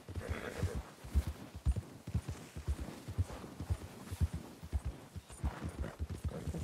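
Horse hooves clip-clop steadily in Red Dead Redemption 2, a close, even rhythm of hoof strikes that carries on throughout with no talk over it.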